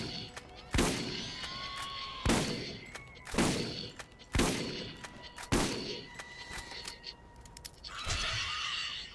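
Scatter gun blasts in the Borderlands video game fire in a steady series of about six loud, sharp shots spaced roughly a second and a half apart, each followed by a short ringing decay, with a noisy burst at the end.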